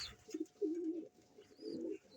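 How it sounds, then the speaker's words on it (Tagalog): Pet pigeons at a fancier's loft coo in low, throaty rolling phrases, two drawn-out bursts close by over a quiet background. "Ibon po siya ni Idol Reggie"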